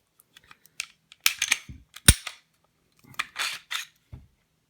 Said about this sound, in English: So to disassemble the pistols,